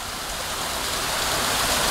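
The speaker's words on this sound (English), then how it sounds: "They've had the bottom paddle open here and also the top paddle open, so they're obviously feeding more water into this pound here" Water rushes steadily through the open paddles of a canal lock, a broad, even hiss of flowing water filling a low pound, close and continuous with no voices.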